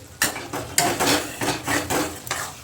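Rice and pointed gourd are stirred in a pan, with about six rhythmic, close scraping strokes of a utensil against the metal, each a crisp rasping swish, and no talking.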